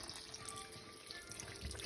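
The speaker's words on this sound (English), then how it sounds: "Kate's gonna add some hot water for us here." Hot water is poured into a pan of mole con arroz during cooking, making a faint, steady trickling stream of liquid throughout with no talk.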